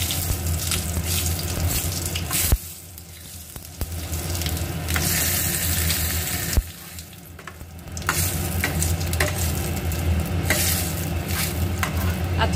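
Whole white cumin seeds crackle and sizzle in hot oil while being tempered for a Bengali moong dal with rohu fish head, a steady close frying hiss with a couple of brief dips and stirring scrapes throughout, no voices.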